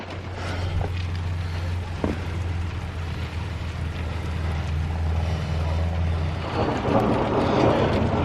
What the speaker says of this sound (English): Okay, now it's just rain, so we're okay.